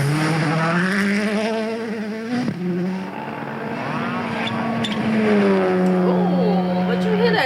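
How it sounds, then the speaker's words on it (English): A WRC rally car at Rally Portugal 2023 roars past close by. Its engine note climbs and drops through gear changes and revs, loud and continuous, with spectators audible in the background. "Ooh, but you hear that engine?"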